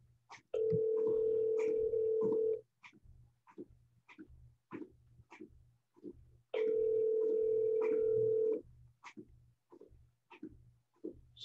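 A telephone line sounds a ringback tone during a cold call: two long steady tones separated by a pause, with faint clicks and soft background noise between them.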